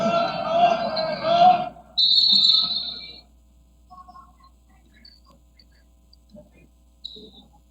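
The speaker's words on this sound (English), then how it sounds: "And whistle." A referee's whistle at a 2020 high school basketball game, one sharp shrill blast after loud gym noise and commentary, then a quieter hall with faint crowd sounds and a brief second chirp near the end.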